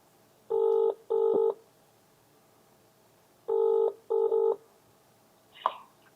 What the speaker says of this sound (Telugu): ఫోన్లో మనం మాట్లాడే ప్రయత్నం చేద్దాం. ఒకసారి ఫోన్ చేద్దాం.